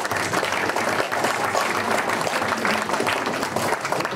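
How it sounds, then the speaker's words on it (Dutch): A hall audience at a village variety-night magic show in Limburg gives a volunteer loud, dense applause, steady and close throughout. "Geef hem een applaus."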